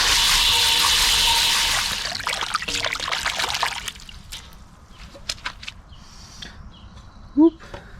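Water sloshing and pouring while dandelion roots are rinsed in buckets, a loud rush at first that fades into trickles and drips, with a brief vocal sound near the end.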